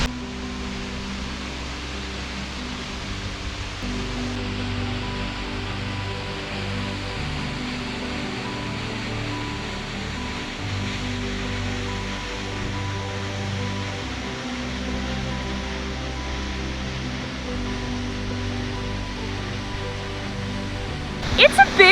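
A 126-foot waterfall in a desert canyon pours with a constant broad rushing roar, steady and even throughout, with a brief sound of handling near the end.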